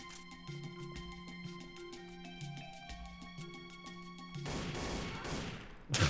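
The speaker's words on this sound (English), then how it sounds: "Bless was shooting in my back for some reason" Gunfire in Trouble in Terrorist Town, rapid sharp shots crackling over steady game music, then a dense loud burst of fire near the end with a final heavy crash.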